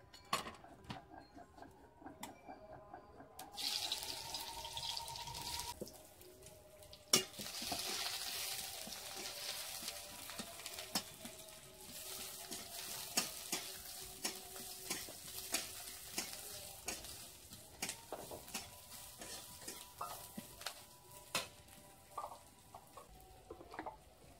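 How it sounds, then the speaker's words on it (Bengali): Onion fries in a little oil in a wok with a soft, steady sizzle, broken now and then by light clinks and scrapes of a utensil against the pan, fairly quiet and without speech. "আর একটু তেল দিলাম, পেঁয়াজটা একটু ভাজা ভাজা হবে"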